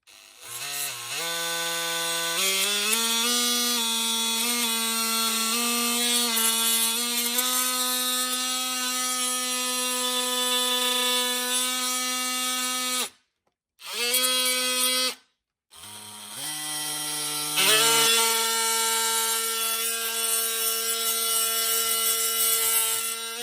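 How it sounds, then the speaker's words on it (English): A bimetal-bladed oscillating multi-tool cuts a small piece of wood with a steady, loud buzzing whine that shifts pitch as the blade bites in. The whine breaks off twice near the end before resuming. "I've got a small piece of wood I need to trim. I'll show you how easily this cuts through the..."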